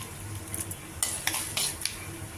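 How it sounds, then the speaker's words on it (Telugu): Chillies fry in hot oil with a steady crackling hiss, punctuated by a few sharp clinks of a utensil against the pan. "రెండు మిరపకాయలు కూడా వేసి వేయిస్తున్నాను"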